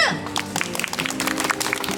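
An audience at a street busking show in Sinchon claps together in a loud, rapid patter of many hands, with scattered voices mixed in throughout.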